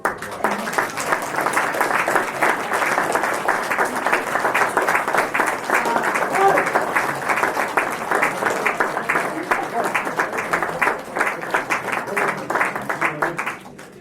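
A crowd at a choir festival applauds steadily and warmly for many seconds, dense clapping filling the room without a break.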